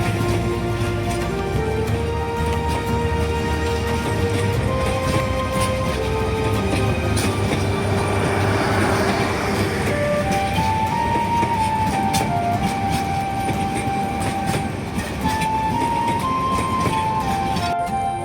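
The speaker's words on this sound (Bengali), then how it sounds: "আমি এই মুহূর্তে দাঁড়িয়ে আছি গাজীপুর জেলার অন্যতম গুরুত্বপূর্ণ রেল স্টেশন জয়দেবপুর রেলওয়ে স্টেশনে।" Continuous rumbling ambience at Joydebpur railway station in Gazipur, with a train present and steady broadband noise throughout. Sustained tonal notes drift in and out over the din, all at a steady, fairly loud level.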